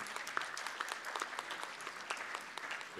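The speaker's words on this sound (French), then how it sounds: "On applaudit Nadine pour la première partie" A conference audience claps steadily at moderate distance, a continuous patter of many hands with no talking over it.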